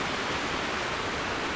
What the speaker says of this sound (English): And a nice juicy river